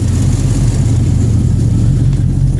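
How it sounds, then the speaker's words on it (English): LS-swapped 1967 Chevrolet Bel Air engine idling with exhaust leaks, a loud steady low rumble with an uneven, puttering pulse close by and no talk over it. "Now that the fuel pumps are quiet, you can hear all the exhaust leaks."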